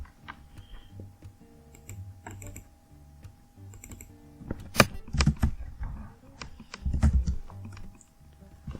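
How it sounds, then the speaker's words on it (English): Typing on a computer keyboard while entering menu items and prices into a spreadsheet, with irregular clusters of close, crisp key clicks that thicken into busier bursts toward the middle and end. "I'm really bad at typing"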